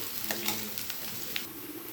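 Onions sautéing with salt in a pan, a soft steady sizzle with a few faint stirring clicks, quiet and close, no voices.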